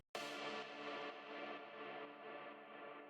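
A sustained, distorted house-music tone with reverb at 100% mix swells in abruptly and lingers with a washy, echoing tail that slowly fades over a few seconds.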